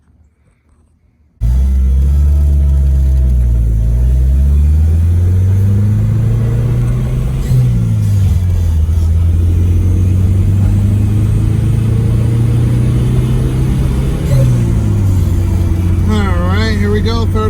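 A Mitsubishi Mirage engine revs hard in a third gear pull, its loud, close drone climbing steadily in pitch, dropping briefly at shifts, then rising again. It starts abruptly after a near-silent moment.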